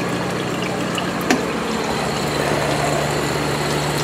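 A water pump refills an aquaponics fish tank in an urban backyard system: a steady, loud flow of pouring water with a low pump hum underneath and one brief click partway through.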